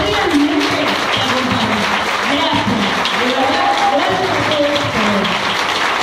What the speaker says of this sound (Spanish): Y acá está el aplauso de la gente que realmente acompaña.